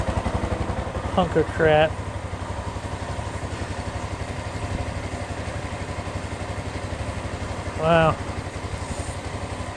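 A Bashan Storm motorcycle engine idles steadily nearby with a rapid, even putter, while someone speaks briefly over it twice.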